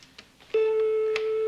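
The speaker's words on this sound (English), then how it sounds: "Ah, oh, you dial tones." A visiophone (video telephone) gives a few short soft blips, then a clear, steady, loud dial tone that holds to the end, heard close with no talking.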